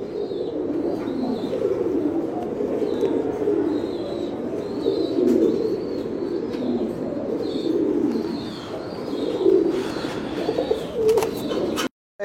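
A grey checker female Mookee pigeon in a loft gives soft, repeated coos close by, low murmuring calls running steadily over a faint background with light rustling.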